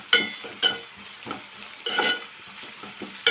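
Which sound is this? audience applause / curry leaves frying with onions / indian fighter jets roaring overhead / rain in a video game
curry leaves frying with onions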